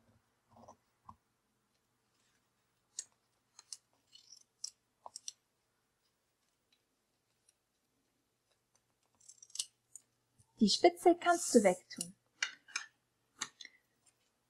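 Scissors snip origami paper in sparse, sharp clicks scattered across a quiet room, followed by a short burst of speech and a few more snips near the end.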